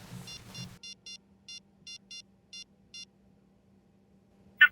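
Phone dialing tones: several rapid short keypad beeps in an uneven rhythm over a low steady hum, ending with one brighter, louder tone as the call is placed.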